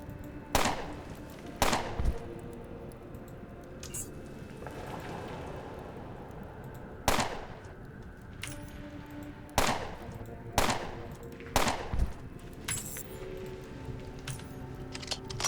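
Gunfire during combat in the turn-based game Underrail: about ten sharp, loud shots arrive singly and in quick pairs over a quiet background hum, with no talking.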